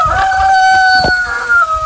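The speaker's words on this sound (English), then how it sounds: "So yeah, that's our total flock, 52 chickens right now." A backyard flock of 52 chickens, with a rooster crowing loudly and close by while hens cluck softly underneath.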